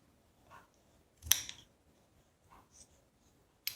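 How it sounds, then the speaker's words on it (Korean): Scissors snip through a crochet yarn tail during a black tote bag project, a sharp close crisp cut standing out amid quiet handling noises, with a few faint softer snips before and after. "가위로 잘라주세요."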